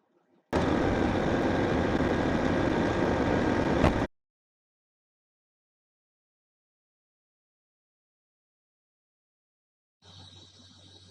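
A CAT 740B tipper dump truck engine pulls slowly in first gear, a loud, steady broadband roar lasting about three and a half seconds that cuts off abruptly into silence, with a fainter rumble returning near the end.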